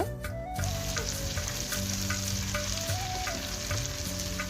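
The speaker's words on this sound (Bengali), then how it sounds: "আদা বাটা রসুন বাটা দিয়ে একটু কাঁচা গন্ধ যাওয়া পর্যন্ত ভেজে নিব" Ginger and garlic paste fries in hot oil for a Bengali shrimp curry, a dense, continuous sizzle with occasional light stirring clicks and a faint background tone, with no voices.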